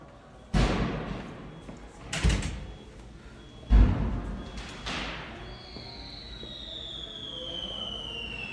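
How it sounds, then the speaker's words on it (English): Three distant booming bursts of fireworks, spaced about one and a half seconds apart, each with a broad rumbling decay, followed by a rising whistle-like tone over faint background noise. "You hear the fireworks?"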